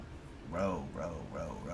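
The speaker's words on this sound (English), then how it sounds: "Judge's dog is barking behind him." A dog barks and whimpers in the background of a courtroom hearing, a few short yelps rising over a murmur of voices and room noise.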